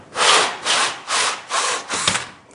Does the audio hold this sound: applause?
no